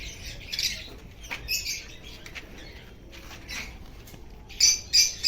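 Pigeons in a pigeon colony: scattered soft coos and squawky chirps come in short bursts, with a few sharper calls near the end, heard close and without any talk.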